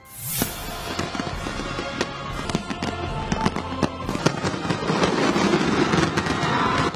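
A New Year's fireworks display of 16,000 fireworks crackles and booms continuously, with sharp bursts and popping layered over a dense roar that builds in intensity.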